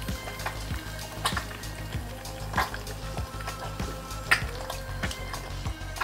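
Eggs frying on a cast iron griddle give a steady sizzle with small crackles and pops, alongside occasional light scrapes or taps of a utensil, close and moderately loud with no talk.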